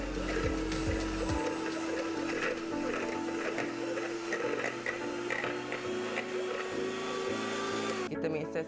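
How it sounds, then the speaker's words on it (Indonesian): An electric hand mixer whirs steadily while beating two egg whites for a Japanese fluffy soufflé pancake batter, a continuous loud motor drone that holds for several seconds before cutting off near the end. "Yang ni kita perlu mixer dulu."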